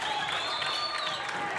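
A crowd at a varsity boys' high school basketball game claps and cheers in a steady, fairly faint roar of applause that fills the whole moment.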